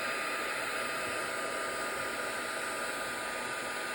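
A heat embossing tool blows steadily to melt embossing powder on a die-cut card element, a constant close airy hiss like a small hair dryer running without pause, no voices.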